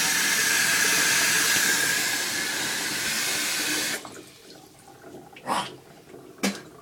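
Water gushing steadily from a faucet into an overflowing sink, a loud broad hiss that cuts off abruptly, followed by a couple of brief splashes and knocks.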